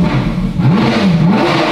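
A crash-damaged Ferrari F430 V8 being rebuilt revs close by, its loud rasping tone climbing and dipping in a short wavering blip over a rough, uneven idle.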